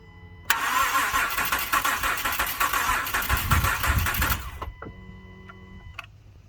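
A 2012 Acura MDX engine cranks over on the starter for about four seconds during a cylinder compression test, a loud, steady whirring churn close by that cuts off abruptly, leaving quiet with faint clicks.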